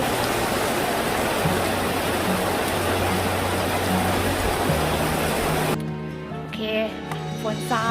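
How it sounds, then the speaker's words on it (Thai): Heavy rain pours down as a steady, dense hiss that fills most of the clip, then eases near the end as a low tonal hum comes in. "เดี๋ยวนะรอให้ฝนหยุดตกก่อนเนาะ"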